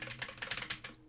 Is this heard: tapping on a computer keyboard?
yes